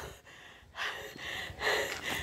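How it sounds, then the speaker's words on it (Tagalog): Heavy, breathy panting in repeated bursts, close up, like someone out of breath while climbing; no talking. "Hingal na ako."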